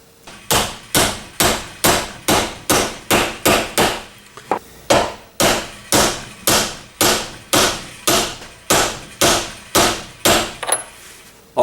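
About twenty sharp, evenly spaced hammer taps seat a bearing onto the motor shaft of a StaRite Opti Flow pool pump, its edge wrapped in electrical tape, with a short pause partway through; loud, close and without speech.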